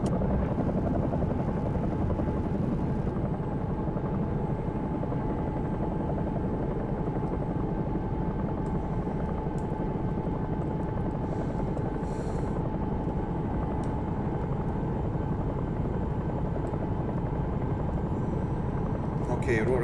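CowanSim Bell 222 helicopter in X-Plane 11 on a London Air Ambulance flight, its rotor and turbine making a loud, steady thrum throughout, with a voice talking over it.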